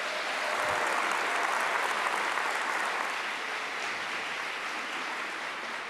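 A church congregation applauds in a sustained, dense burst of clapping that fills the room evenly, steady and loud throughout without voices standing out.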